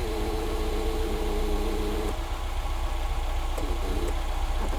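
A classic Ford Fiesta engine idles with the choke off, a steady low rumble with a slightly uneven, knocking pulse running throughout, close by and alone with no voices.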